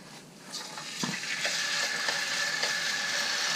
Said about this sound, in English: when the frying pan is hot enough, put the beef in.